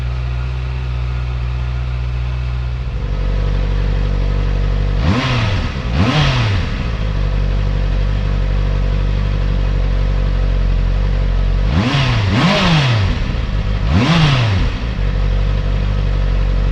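A 2023 Honda CB650R fitted with a K.O. Lightning aftermarket exhaust idles loudly and steadily, then gets two quick pairs of sharp throttle blips that rise high and drop back to idle, with no talking.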